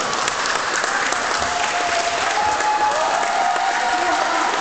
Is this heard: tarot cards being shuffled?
no